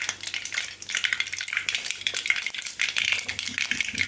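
Onions frying in an oil-filled pan for semiya kichadi, with steady sizzling crackle and intermittent rattling scrapes of a spoon stirring against the metal, close up with no speech.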